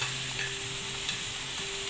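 Masala with grated carrot and boiled peas frying in a pan while being stirred, a steady close sizzle with scraping stirs throughout, no voices.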